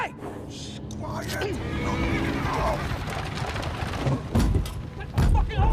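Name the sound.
horse neighing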